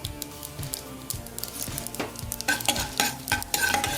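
Mustard seeds, cumin, chana dal and urad dal fry in hot ghee for carrot rice, a close, steady sizzle with scraping stirs and crackling pops that thicken toward the end.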